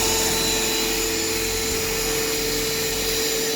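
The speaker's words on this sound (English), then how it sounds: "I bought Ryobi vacuum cleaner" A Ryobi battery-powered vacuum cleaner runs steadily, with a constant loud whine and a broad rushing airflow that holds even from start to finish, with no talking.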